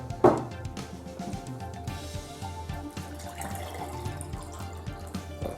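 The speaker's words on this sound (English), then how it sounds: "we're going to pour a glass of the Brita water" Filtered Brita water poured into a glass, a continuous close splashing and trickling stream after an initial bump, steady and moderately loud throughout.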